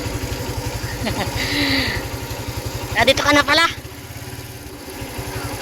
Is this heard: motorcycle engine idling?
yes